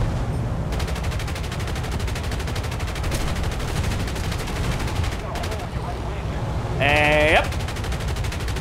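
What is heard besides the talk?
aircraft guns firing in War Thunder video game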